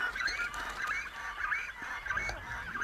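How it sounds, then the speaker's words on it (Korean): Waterbirds such as cormorants, egrets and pelicans crowd small islands, giving a chorus of honking, goose-like calls that repeats in bursts at moderate distance over a steady outdoor background. "작은 섬들은 360여 종에 달하는 다양한 새들의 안식처"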